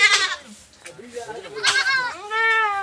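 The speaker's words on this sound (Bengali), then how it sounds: "দেখো ছাগলগুলো দেখো এই ছাগলটার বাচ্চা হয়েছে" Goats in a village shed, a mother with her kid, give several close, wavering bleats, with a high quavering call at the end.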